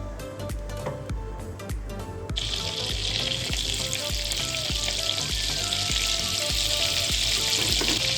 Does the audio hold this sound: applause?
no